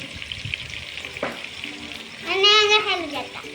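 Chopped onions hit hot oil in a pot for gongura mutton dum biryani, giving a steady frying sizzle with a short clatter early on and a voice rising briefly near the end.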